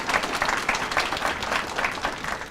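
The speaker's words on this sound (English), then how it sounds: "Let's give them a hand." A crowd of alumni and guests at a college ribbon-cutting for a new student success center claps warmly, a steady, fairly close wash of applause that holds evenly for a couple of seconds.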